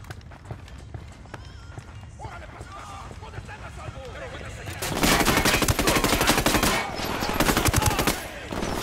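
Sustained firefight in Tom Clancy's Ghost Recon Wildlands, scattered shots building into heavy, continuous automatic gunfire that grows loud and dense midway, with voices calling out over the battle.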